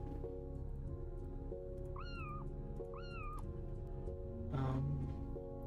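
A cat meows twice in short, rising-falling calls, clear and fairly close, over a constant background hum, followed by a brief louder burst near the end.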